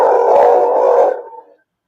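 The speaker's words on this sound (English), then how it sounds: "the dog has been out on the patio" A dog howls out on a patio, one loud, sustained, wavering howl lasting just over a second that fades quickly into silence, close and on its own.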